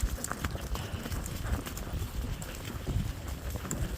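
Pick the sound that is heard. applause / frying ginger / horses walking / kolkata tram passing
horses walking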